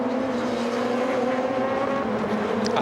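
Touring cars race at Curitiba in a 2008 World Touring Car Championship round, their engines droning loud and steady with harmonic tones and a faint tire squeal near the end.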